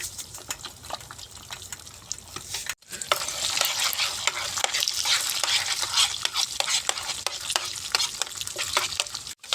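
Four eggs fry in a little oil with mustard seeds, chana dal and salt while a spoon stirs them, giving a loud, steady sizzle with repeated scraping stirs close up and a brief pause partway through, with no talking.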